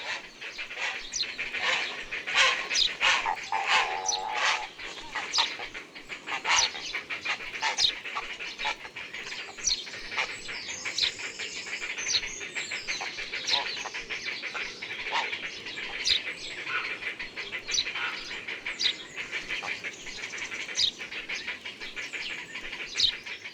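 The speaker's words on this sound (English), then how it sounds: "In the heronry, young birds are now being fed in the high nests, and the wood is full of raucous noise." Young herons clamour from high nests in a woodland heronry at feeding time, a dense, continuous raucous chorus of squawks and calls with scattered sharper cries over it, steady and fairly near throughout.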